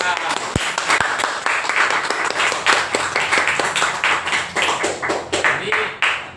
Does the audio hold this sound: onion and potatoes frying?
no